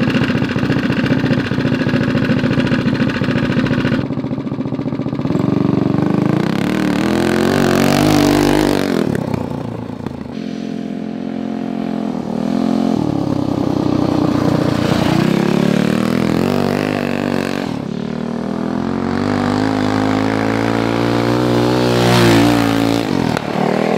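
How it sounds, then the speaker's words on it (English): A 30HP big bore Tillotson engine on an off-road mini bike roars at full throttle, a loud, buzzy, continuous mechanical drone that rises and dips in pitch through repeated revving surges, with no talking over it. "we're gonna let it rip"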